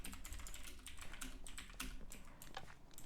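Rapid, steady typing on a computer keyboard to send a chat message during an online game, with continuous close key clatter throughout and no voices.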